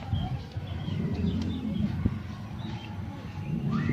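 Pigeon or dove cooing close by, soft low repeated coos running through the whole stretch over steady background noise, with a few faint chirps and no clear speech.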